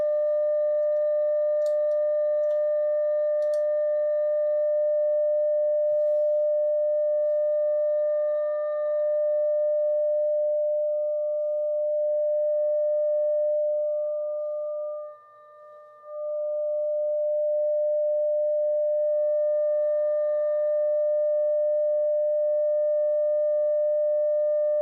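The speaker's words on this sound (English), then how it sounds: "There's my perfect sine wave." A pure, steady sine test tone with faint harmonics sounds throughout alignment of the FM section on a SABA Breisgau radio, holding level apart from one brief dip midway, with a few faint clicks early on.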